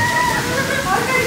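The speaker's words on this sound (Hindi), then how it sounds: "कुछ बहुत तेज बारिश हो रही है ना एकदम से" Dense, steady hiss of heavy rain pouring down, loud and close, continuing without a break.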